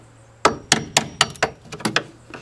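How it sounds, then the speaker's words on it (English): A hammer taps fiberglass gel coat about nine times in a quick, uneven series of sharp, close knocks, each one brief and dry, with a faint hum between them. "And if you don't, you can take the hammer."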